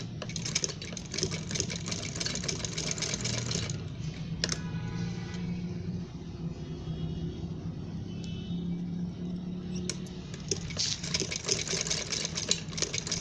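A hand-operated sewing machine stitches honeycomb smocking with a steady, faint mechanical clatter. The stitching pauses briefly in the middle and then resumes.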